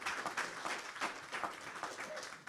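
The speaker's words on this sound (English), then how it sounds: "go ahead and clap it up. Clap it up." Applause from a worship gathering, a steady wash of many hands clapping at moderate distance with a few louder claps rising and falling, no voices standing out.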